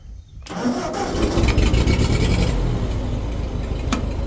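After a brief silence, a 1950s Ford tractor engine cranks and catches, then settles into a loud, rough, chugging idle close by.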